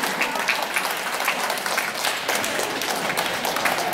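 Audience at an art exhibition opening clapping steadily, a dense, continuous wash of many hands at moderate distance with no break across the stretch.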